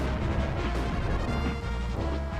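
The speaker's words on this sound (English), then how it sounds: "Wow, kicking explosions" Explosions in the video game The Adventures of Batman and Robin, a steady roaring crash of blasts with no talk.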